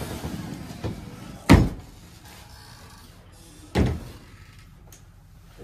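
A door leading out to a courtyard, in guest accommodation in Auckland, gives two dull, fairly loud knocks or thumps a couple of seconds apart, heard near and alone over a quiet room.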